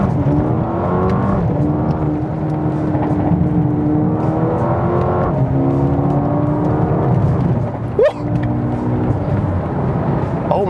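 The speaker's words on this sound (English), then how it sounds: "there's a nice tone coming out the exhaust and stuff as well" A Mercedes-AMG A35 exhaust drones and rises through several revs heard from inside the car, a steady loud engine tone climbing and easing in repeated pulls, with a brief crackle near the end.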